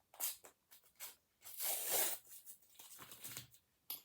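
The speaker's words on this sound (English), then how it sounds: "now that I know where I'm going to put this, off comes the paper" Paper backing peeled and torn away from a slow-stitching project, several crackly ripping bursts with brief pauses between them, close and fairly quiet.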